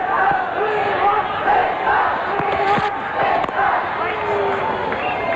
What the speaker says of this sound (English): The crowd chanting for a sixer